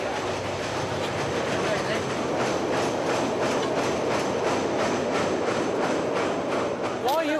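A train runs along the rails with a steady, rhythmic clickety-clack close by, a continuous rumble underneath and a brief wheel squeal near the end, with voices faintly beneath the noise.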